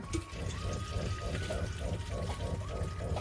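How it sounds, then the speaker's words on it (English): A boat's onboard water pump running, a low steady hum with regular pulsing beats that repeat about every quarter second, under faint water flow and a high tone. "you can see in real time when I turn on the water pump"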